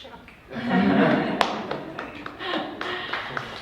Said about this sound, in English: I don't need to cut the clapping short